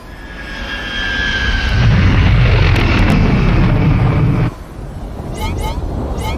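Spaceship engine in the game SW:TOR, roaring as it surges to full power. The thrust builds to a loud, sustained rumble, then cuts off abruptly, followed by short whooshing sweeps. Voices speak over the start.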